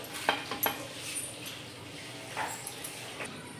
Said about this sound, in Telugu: ఇప్పుడు బ్రెడ్ని అయితే ఇలా కాల్చుకోవాలి.